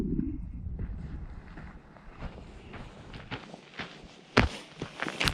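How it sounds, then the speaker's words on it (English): Gusty wind buffets a camera microphone outdoors beside Yamaha TW200 motorcycles, a 1989 and a 2019, giving a steady low rumble broken by sharp thumps and bursts that peak near the end. "So that wind's gonna blow my camera up."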